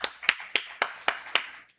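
A church congregation claps a few times in a slow, even rhythm, six distinct claps at moderate distance in a quiet room.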